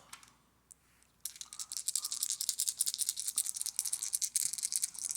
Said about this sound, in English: dice is going to roll